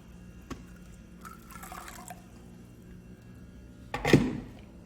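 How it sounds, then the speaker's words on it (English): Boiling water pours into glass marmalade jars with a short, bright burst of splashing and filling near the end, after a quiet stretch that holds a single small clink and a faint trickle. "Fill them up with boiling water"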